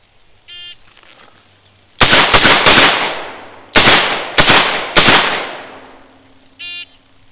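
A Smith & Wesson Model 28 revolver fired on a law-enforcement handgun course: six loud, sharp shots with ringing decay, three in quick succession, then three more after a pause, framed by electronic timer beeps.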